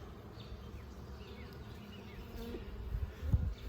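Honey bees on an open hive frame with a patch of brood make a dense, steady buzzing hum throughout, moderately quiet, swelling slightly near the end.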